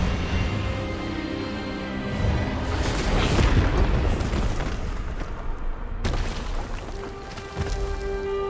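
Expelliarmus spell effect in the video game Hogwarts Legacy, a loud, rumbling magical blast that swells and roars for several seconds before a sharp cut, with music and effects behind it.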